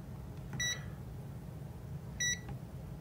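Electronic beeper on a meter used to test an AC step up/step down transformer sounds two short high-pitched beeps about 1.7 seconds apart over a low mains hum.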